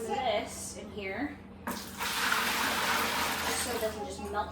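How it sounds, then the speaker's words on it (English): Water gushes from a tap into a bucket while making homemade cleaning spray, a loud steady rushing stream that starts abruptly after a few seconds of a person talking and keeps going under occasional voice. "we're going to dump this in the bucket and then fill the rest up with water"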